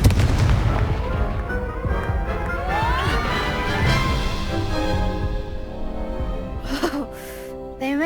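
Spell combat in the video game Hogwarts Legacy brings rapid booming blasts and crackling impacts one after another, loud and dense, with shimmering magical tones and a brief pause near the end.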